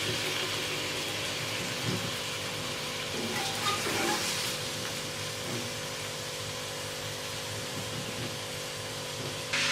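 Tinda (apple gourd) pieces sizzle steadily in hot oil in a home kitchen, a dense continuous crackle holding at even loudness throughout with no talking.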